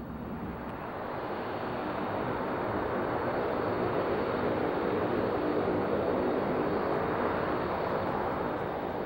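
A Lockheed P-3 Orion naval patrol aircraft flies past with a steady, loud engine roar and drone that holds evenly throughout, with no voices.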